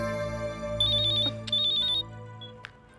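A phone ringtone plays in a home drama scene, two electronic melodic ring phrases over a sustained musical background, fairly loud and close, with no talking.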